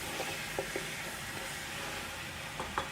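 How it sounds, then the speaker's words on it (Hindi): Beef for nehari fries with ginger garlic paste in a pot, producing a soft, steady sizzle and hiss with occasional light stirring clicks, fairly quiet and without talk. "इसको हम फ्राई करेंगे तकरीबन"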